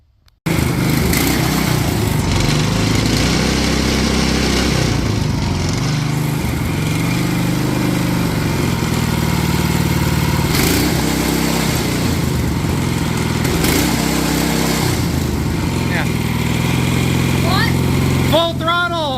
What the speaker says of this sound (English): Full throttle all the way now. This is a Predator 212